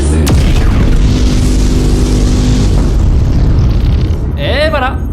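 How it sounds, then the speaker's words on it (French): A cannon-fire sound effect: a sharp crack opens a sustained, loud, roaring boom that rumbles on for several seconds before fading, with a brief rising whoosh at the end. "Activation du canon anti-spam dans 3, 2,"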